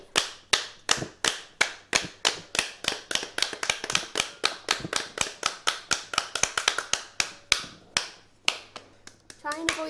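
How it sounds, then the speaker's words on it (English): A wooden spoon strikes a halved pomegranate held over a bowl to knock out the seeds, giving dozens of sharp, close hollow thwacks in a fast, steady rhythm that quickens midway and then tapers off. "we're basically just going to bash the seeds out of the pomegranate"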